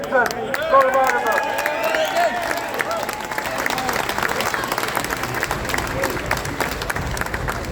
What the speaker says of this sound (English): Give him a big full applause to Malachi Steenson.